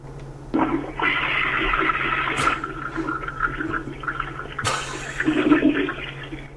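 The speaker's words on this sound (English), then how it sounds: "That is a toilet flushing." A toilet flushes in a voicemail recording, a loud rushing gurgle of water that starts abruptly, runs for several seconds with a second surge midway, and sounds slightly tinny over the phone line.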